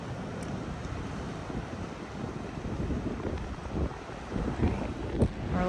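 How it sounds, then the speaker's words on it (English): Steady wind buffets the microphone on a basalt bluff at Montaña Amarilla, Tenerife, while ocean waves surge and break below in a continuous roar that swells louder toward the end. "Looks like the waves are on this side now"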